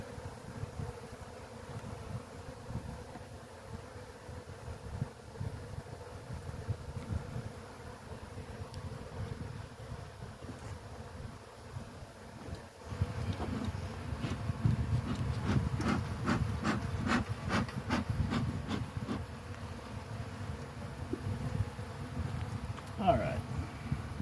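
Honey bees buzzing around an open hive during an inspection in February, a steady close hum that thickens and grows louder partway through, with occasional tool scrapes and clicks.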